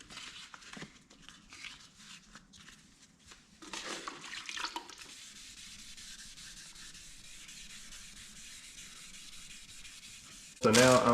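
Wet sanding of a freshly painted motorcycle swing arm with 2000 grit sandpaper, heard as soft, close rubbing strokes with a watery hiss, ending in a louder burst of noise.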